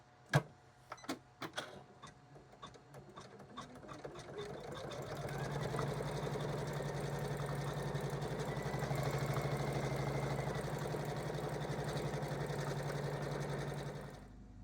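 An embroidery machine stitches an appliqué quilt block, starting with a few sharp clicks before settling into a fast, steady mechanical whirring hum that holds for several seconds and then stops.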